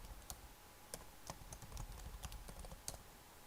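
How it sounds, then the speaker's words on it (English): Quiet, close clicking of keys on a computer keyboard as an email address is typed, an irregular run of light taps with no talking. "you go ahead and type in your email address."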